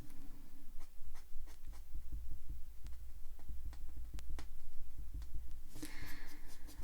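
Soft, close rubbing and dabbing of pastel pigment into paper, a series of light taps and scratchy strokes over a low hum, with a brief brighter swish near the end.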